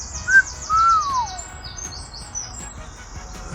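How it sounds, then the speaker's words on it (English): Birds chirp and sing among trees outdoors, a couple of clear whistled calls early on over faint background chatter of other birds. "Listen to those birds, it's just awesome"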